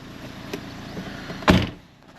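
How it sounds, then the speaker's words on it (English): A car door shuts with one solid thump near the end, preceded by faint clicks and a low idling engine hum in the background. "We close the door."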